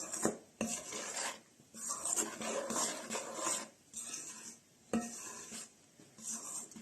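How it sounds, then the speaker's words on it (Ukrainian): Soft dough of sour milk and mayonnaise being stirred in a bowl, quiet scraping and rubbing strokes coming in uneven bursts with short pauses between, no talk. "Перемішуємо."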